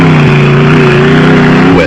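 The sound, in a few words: Motortech Raceco off-road race car engine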